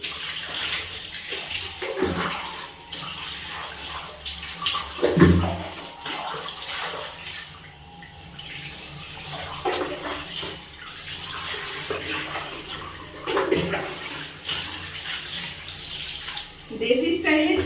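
Water splashes and pours in repeated bursts during a bath, loud and close, with quieter stretches in between and a voice talking intermittently.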